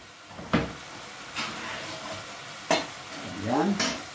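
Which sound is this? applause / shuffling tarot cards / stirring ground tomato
stirring ground tomato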